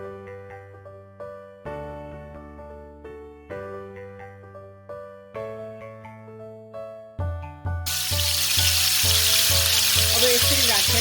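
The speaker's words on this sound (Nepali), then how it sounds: "अब म राख्छु यसमा मैले अघि म्यारिनेट गरेको माछाको" Marinated fish pieces go into hot oil in a pan and begin to sizzle, a broad frying hiss rising to fill the last few seconds after a run of bright repeating musical notes.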